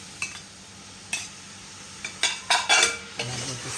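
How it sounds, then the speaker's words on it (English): Bell pepper, onion and thick-leaf celery stirred in a cooking pot for spinach rice with okra and chicken, giving a few separate scraping, clinking strokes with a faint sizzle beneath, close and fairly quiet. "And I'm going to stir that up"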